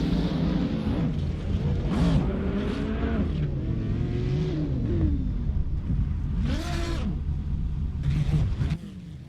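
Racing cars in a racing video game, a Lamborghini among them, engines droning and rising and falling in pitch as they rev and shift, with several whooshing passes over a steady loud roar.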